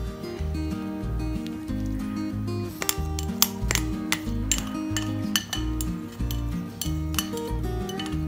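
Penne pasta with chicken Alfredo sauce being mixed in a pot, with repeated close metallic clinks and scrapes of a spoon against the pot over a bed of background music.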